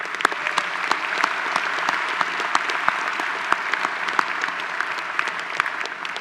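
Audience applauding award winners at a graduate programs graduation recognition ceremony, sustained clapping from a moderately sized crowd with distinct individual claps popping out over a steady wash.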